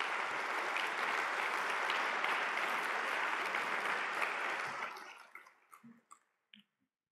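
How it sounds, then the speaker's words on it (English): Sustained applause from a conference audience at Eclipse ECE 2019 for the event sponsors, steady dense clapping that fades out after about five seconds into a few scattered final claps. "Can I please have a round of applause for the sponsors?"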